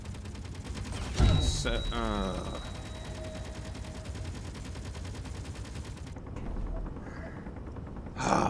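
Guns fire in the Space Engineers video game, sharp bursts and rattling shots mixed with whirring machine tones, with a person talking briefly over the game sounds.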